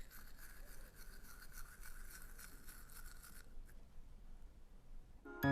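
A toothbrush scrubs teeth with a steady, close, soft bristle rasp for most of the moment, then stops and the sound falls quiet before a brief bump at the end.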